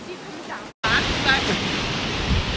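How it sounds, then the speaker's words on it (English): Pacific Ocean waves at El Matador State Beach make a steady broadband surf wash close by, with a brief dropout partway through, then continuing loud. "The waves are here."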